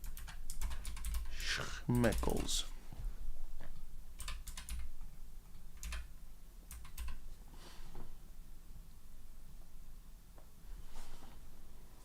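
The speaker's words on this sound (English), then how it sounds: "I should sit a little bit more comfortably than typing like this" Typing on a computer keyboard, a steady run of quick close key clicks with bursts and pauses over about twelve seconds, under someone talking.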